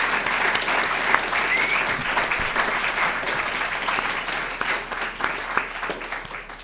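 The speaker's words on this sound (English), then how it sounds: "Just give everyone, all the speakers, a big round of applause" An audience applauds the speakers at a public talk on austerity, a dense, even wash of clapping from many hands that carries on steadily throughout.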